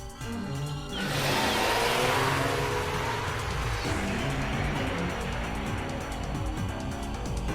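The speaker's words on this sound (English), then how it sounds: "The car speeds off like a bullet." A limousine speeding off in the Steins;Gate visual novel game, a game sound effect with a rising engine roar that surges after a second and sustains loudly, mixed with background music.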